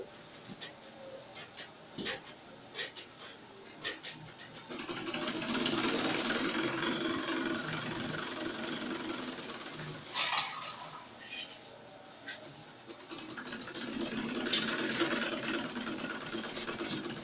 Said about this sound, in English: I'm just tracing out the sides as I sew.